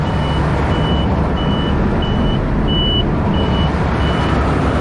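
Warning beeps from a Claas Mega 204 combine harvester at a rapeseed harvest repeat at an even pace over a loud, steady engine and threshing roar.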